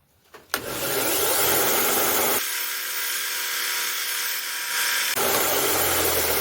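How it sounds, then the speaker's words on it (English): A power grinder spins up and runs steadily while grinding a single flat bevel on a forged herb chopper blade, the pitch dropping and changing as the steel meets the wheel, then rising again. "So we're going to do just a single grind on this thing."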